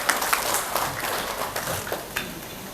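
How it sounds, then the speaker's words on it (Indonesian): Audience at a university forum applauds the UGM rector, a dense, moderately loud wash of clapping from a crowd that holds steady for a few seconds. "Tepuk tangan untuk Bu Rektor UGM"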